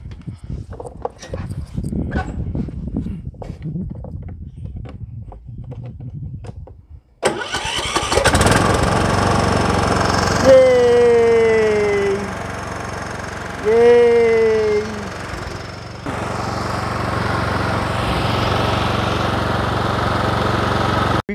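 Kohler small engine on a lawn mower cranks over with a fresh replacement starter, then catches and settles into a loud, steady running drone up close, with two brief whining sweeps and some background noise.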